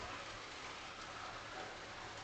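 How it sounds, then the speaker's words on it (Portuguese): Heavy rain falling steadily outdoors, a dense even hiss with no distinct drops standing out, faint and continuous throughout. "Começou a chover pra caramba aqui."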